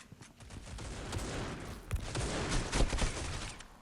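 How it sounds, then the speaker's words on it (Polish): Sustained video game gunfire, a dense automatic fusillade of rapid shots that swells louder toward the end, with no voices over it. "ten typek kurde strzela przez 5 lat i mu się ammo nie kończy"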